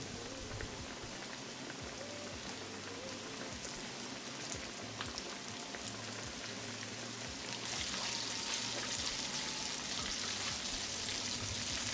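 Catfish nuggets deep-frying in vegetable oil at 350 degrees, a dense, continuous bubbling crackle that grows slightly louder and brighter partway through, with no voices.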